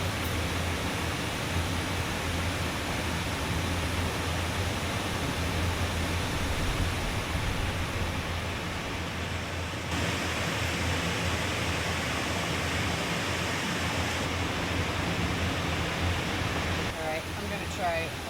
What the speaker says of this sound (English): All that water is from the pond to the right of us, just coming down and coming in into this little piece of water